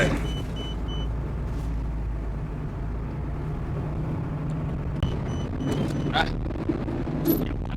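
A Hino Mega 10-wheel truck with a J08 engine and manual gearbox is driven, giving a steady low engine rumble heard from the cab, with brief higher mechanical whines and a voice talking over it.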